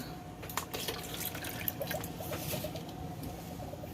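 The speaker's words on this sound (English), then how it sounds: "I'm going to add the milk." Milk poured into a homemade eggnog mixture of blended egg and sugar, a steady close liquid splash running unbroken with faint drips and no talk.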